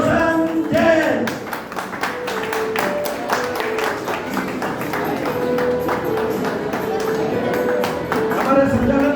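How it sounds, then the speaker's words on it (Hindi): Audience applause welcoming a youth icon at a Jain temple quiz event, sustained dense clapping over a steady background, with some music-like tones beneath. "तालियों से हार्दिक स्वागत करिए।"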